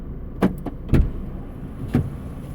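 Someone outside a locked car tugs at the door handle several times, producing a few sharp, close clunks and rattles spaced irregularly over a quiet idling background.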